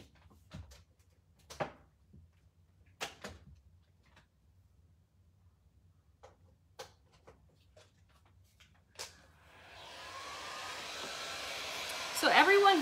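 A heat gun drying a craft project switches on after a stretch of scattered small handling knocks, then blows as a steady rushing whoosh that grows louder near the end.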